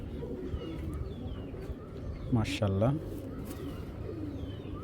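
A black checker racing pigeon coos nearby, a low rolling call swelling briefly mid-clip, while someone talks over it.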